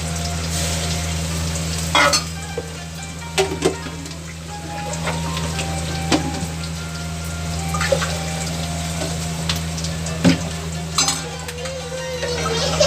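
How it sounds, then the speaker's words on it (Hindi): Bitter gourd curry sizzles loudly in a hot pan after water is poured in, a dense continuous hiss and crackle with occasional sharper pops and stirring knocks throughout. "अब मैं इसमें पानी डाल देती हूँ।"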